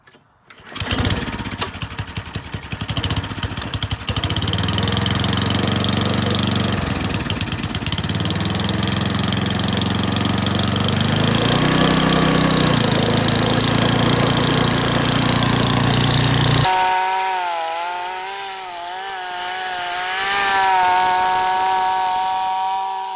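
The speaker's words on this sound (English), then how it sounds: "This blower runs great, blows snow great, drives great." A petrol snowblower engine starts and runs loud and steady close by, its drone shifting pitch slightly as it works, then settles to a different, lighter idle tone near the end.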